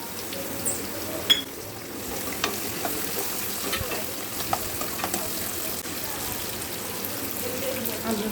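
Corn being stirred into a sizzling mixture in a pan for potli samosa filling, a steady soft frying crackle with occasional clicks and scrapes of the spoon.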